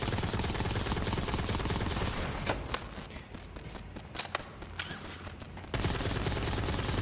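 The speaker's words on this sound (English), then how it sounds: "Let's unload all of these pistol rounds." Rapid pistol fire in Borderlands 3, a dense continuous stream of shots with a few sharper cracks standing out, loud throughout and cutting briefly before resuming at the end.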